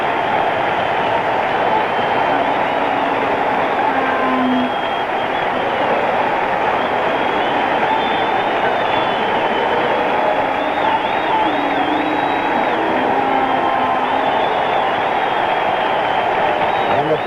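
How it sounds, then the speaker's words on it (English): A large stadium crowd gives a standing ovation to Mickey Mantle at the 1968 All-Star Game, continuous broad applause and cheering rolling on steadily for many seconds, with faint broadcast voices underneath. "Wow, it's a standing ovation for him."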